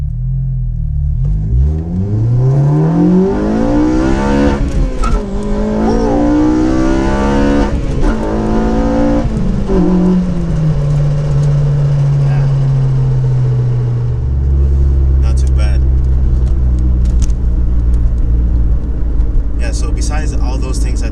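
A Honda Civic Si accelerates hard in first gear from a stop at a red light on a winter drive, its engine note climbing steadily before settling into a loud, sustained drone, with someone talking over it.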